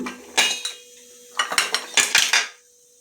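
Pieces of drumstick (moringa) are dropped into a pot of sambar, making clustered metallic clatters and clinks in two close bursts with brief quiet between them.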